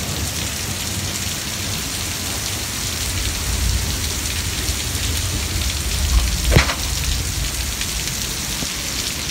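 A heavy storm downpour hisses densely and steadily throughout, with one sharp, brief crack rising above the rain partway through.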